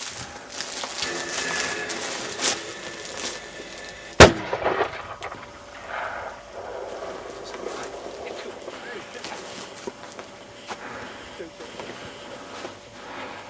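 LPG-fired replica of an M3 anti-tank gun going off once during a test fire, a single sharp loud bang with a short rumbling tail, set among outdoor background noise and people talking.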